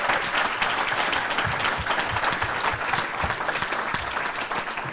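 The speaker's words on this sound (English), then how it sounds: "A round of applause for our great candidates." A forum audience applauds election candidates with loud, dense, continuous clapping that fills the whole stretch, sustained and even throughout.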